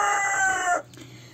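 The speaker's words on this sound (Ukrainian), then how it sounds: "Ось тут в мене знаходиться квочка, мама, яка вивела мені 8" A broody bantam hen with chicks gives a short, loud vocal call that breaks off abruptly, followed by faint low clucking close by.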